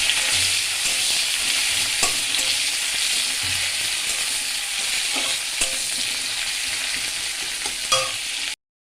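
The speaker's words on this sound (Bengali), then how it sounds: "এবার নাড়তে থাকবো।" Sliced onion fries in hot oil in a pan, a strong continuous sizzle with occasional soft knocks of stirring, ending abruptly in silence.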